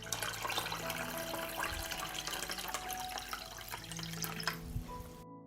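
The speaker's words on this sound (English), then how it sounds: "I pour water up to the height of the lid." Water from a tap pours steadily into a pan holding glass jars of peppers set on a cloth, a continuous gushing and splashing that fills the whole stretch before cutting off abruptly.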